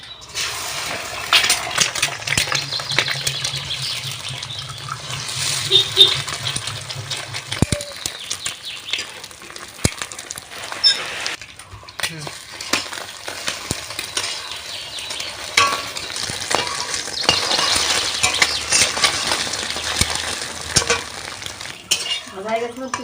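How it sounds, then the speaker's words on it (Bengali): Two eggs frying in hot oil in a pan while cooking a Bengali rice and potato meal, a steady soft sizzle with occasional spatula scrapes and clinks of cookware throughout. "ডিম ভেঙে ভেজে নেবো।"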